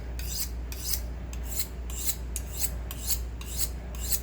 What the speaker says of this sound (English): Like this is a paring knife. When I sharpen this, it's really short strokes